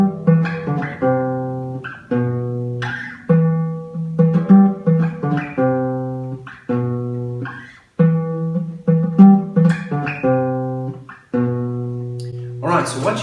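Guitar plays a well-known riff picked note by note from tab, each note or pair left ringing and decaying, clean and close with short gaps between phrases.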